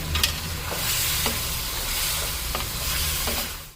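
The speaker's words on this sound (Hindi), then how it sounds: "ये प्याज डाल देंगे, ठीक है। फिर से इसको थोड़ा भून लेंगे।" Onions and turmeric frying in oil for chicken karahi, stirred with a utensil, giving a steady close sizzle with a few scraping strokes across it, no voices.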